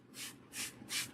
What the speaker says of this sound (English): So she sprays the hair.